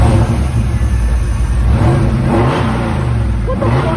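A Corvette C5 Z06 engine runs loud and close, rumbling with a few swelling revs as it idles roughly in a shop.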